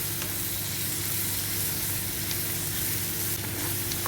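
Leftover bottle gourd (kaddu) pulp frying on high heat in a pan, a steady, even sizzle with faint stirring, moderately quiet and continuous, no talk.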